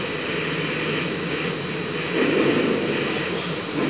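An airplane engine drones in Grand Theft Auto III, a loud, steady roar with a constant high whine that swells slightly partway through, with no voices.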